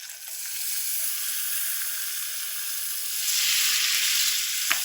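Butter sizzling in a very hot pan with salmon, a steady close frying hiss that swells louder near the end, no voices.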